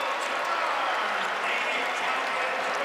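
A basketball arena crowd at an NC State vs. Syracuse ACC men's game roars and claps in a loud, continuous wash of cheering and applause, with a commentator's voice faintly mixed in.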